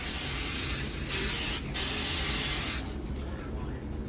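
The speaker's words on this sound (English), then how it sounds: "Now I'm going to spray the meatballs so that they can get a little bit of brown color" A can of cooking spray hisses steadily over meatballs before baking, a loud close spray in several long bursts with brief breaks between them.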